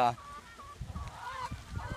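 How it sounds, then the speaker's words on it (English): About three dozen chickens roaming free cluck and squawk nearby in short honking bursts, with a low rumble of activity underneath. "And we have about 3 dozen chickens."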